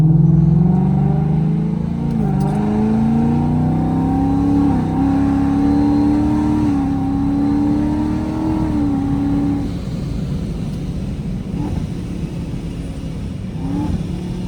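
A loud 2020 Mustang GT with a 3-inch XForce catback exhaust revving hard with deep exhaust rumble, pitch climbing and dropping through downshifts, close by and continuous.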